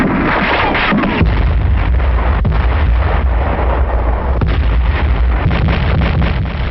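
Wartime artillery fire, with heavy booms rolling one after another over a dense, continuous rumble. The sound is loud and distant, with a narrow, old-recording quality and no voices.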